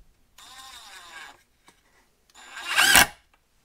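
A cheap Galax impact driver with a T25 bit runs small screws in two short whirring, rattling bursts; the second burst is louder and briefer, ending sharply. Quiet gaps separate them.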